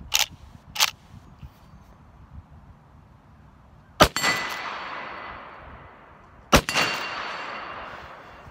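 A Rossi R92 lever-action rifle in .357 Magnum fired at a steel target outdoors: two earlier sharp reports, then two loud shots that each ring off steel with a long metallic ring decaying into the open air.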